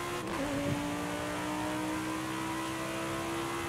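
A video game car engine held at full throttle, a steady high, loud drone with tire and road noise and a brief rising pitch near the start.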